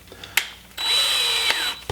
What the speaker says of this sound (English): I'm just going to drill myself